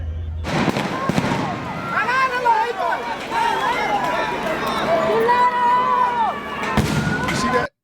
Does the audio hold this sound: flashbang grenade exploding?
yes